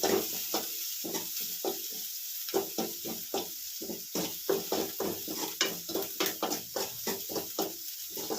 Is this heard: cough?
no